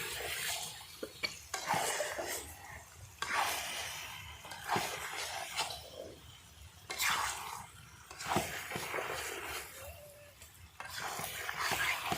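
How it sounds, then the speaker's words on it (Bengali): Chicken pieces are sautéed with spices in a pot for a potato chicken curry, giving a quiet background sizzle broken by repeated bursts of scraping stirs at a fairly even pace, with no voices. "মাংস দিয়ে কষাতে থাকবো"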